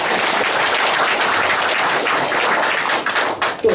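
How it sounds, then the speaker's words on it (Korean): Audience applause at a local council candidate's campaign office opening in Bucheon, Korea, a loud, dense burst of many hands clapping that holds steady and then thins into scattered claps near the end. "동의하시면 박수 한번 주십시오."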